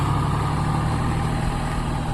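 A tractor loaded with sugarcane runs steadily, its low diesel drone and rumble continuous and fairly loud throughout, with no voices.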